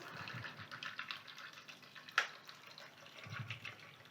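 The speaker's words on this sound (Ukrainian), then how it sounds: "Заливаємо картоплю холодною водою" Cold water poured into a pot over cut, peeled potatoes, a steady soft gushing and splashing stream at moderate distance with one brief clatter midway, and no speech.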